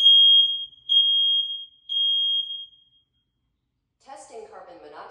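A Nest smoke detector's self-test alarm: a loud, piercing electronic tone sounds in three long beeps, each about a second, followed by a pause and then a voice speaking.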